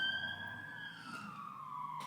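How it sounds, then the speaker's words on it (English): A police car siren passes by outside a home, one steady wailing tone slowly dropping in pitch as it moves away, moderately distant and alone with no talking. "Oh no, it's a police car."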